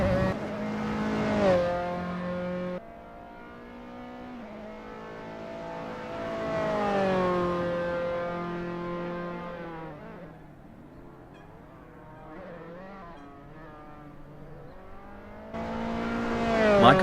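Dallara F317 race cars warming up at Tor Poznań in the Assetto Corsa sim, engines droning and revving with rising and falling pitch, several overlapping tones, steady and moderately close.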